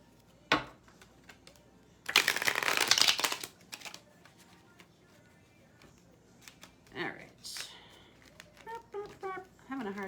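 Artist Inner Vision tarot cards shuffled by hand in a loud riffling burst lasting about a second, with softer card handling and scattered clicks around it. A voice speaks quietly in places.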